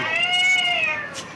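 A man imitates a cat's meow, making one drawn-out, wavering meow that rises then falls, close and fairly loud with no other talk.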